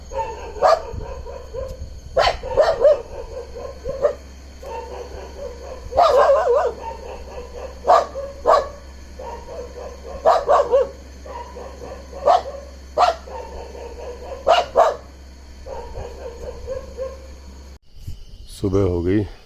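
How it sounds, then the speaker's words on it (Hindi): Dogs barking repeatedly at night near a resort in Rajaji National Park, with sharp bark bursts and yips recurring every second or two over a steady low hum, fairly close, with someone talking at times. "जिस तरह से कुत्ते भौंक रहे"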